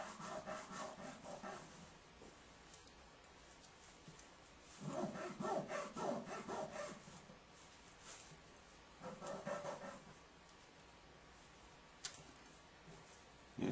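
Small O scale model locomotive parts for a Kansas City Southern GP9 are worked over a sander and a file, making three faint, rhythmic rasping passes separated by quiet gaps.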